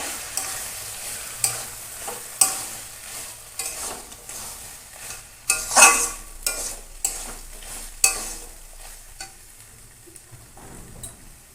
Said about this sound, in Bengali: জিরে বাটা দিয়ে দিলাম ভাজার দিকে